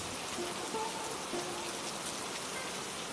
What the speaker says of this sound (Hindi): बाहर अब भी तेज बारिश हो रही थी।